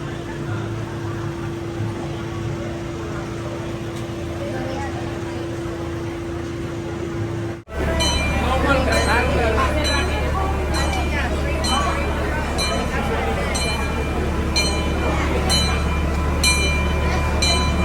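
A small plantation train at Dole Plantation, Hawaii, rumbles loudly with a steady low drone, then a louder section with rhythmic clicking from the rails.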